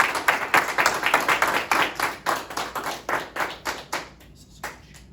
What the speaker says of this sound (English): So let's give Ivan a round of applause